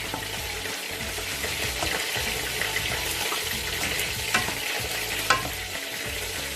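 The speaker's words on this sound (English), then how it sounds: "it's just the chicken is getting fried up there." Chicken frying in a pan, a steady close sizzle and crackle throughout with a few sharper pops near the end, no voices.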